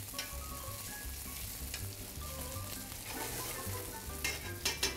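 Potato and cheese pierogi fry in a pan with a steady crackling sizzle throughout, a low hum underneath and a few sharper pops near the end.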